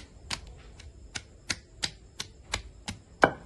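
Onion pieces are pounded coarsely for roti pachadi in about nine sharp, evenly spaced thuds close by, the last strike heaviest, with no talking.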